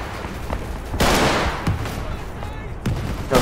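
Rapid gunfire from the Roblox war game Centaura, loud bursts and single cracks scattered across the moment with a longer volley in the middle, amid a busy battlefield.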